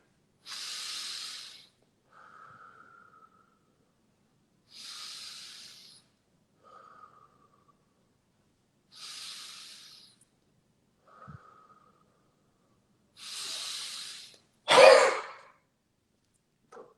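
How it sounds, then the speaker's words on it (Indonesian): Slow deep breaths, each a soft airy hiss, repeat several times with pauses and quieter intakes between, then one sharp forceful huff cough bursts out near the end, a breathing exercise for a Covid-19 patient. "Kita awali dulu dengan di breathing 3 kali, baru kita lakukan huffing di setelah pernafasan yang ketiga"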